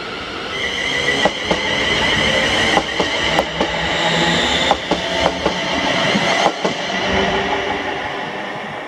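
A train rolls through Paisley Gilmour Street station with continuous rumbling, high wheel squeal and a regular clickety-clack of wheels over rail joints, close and loud throughout.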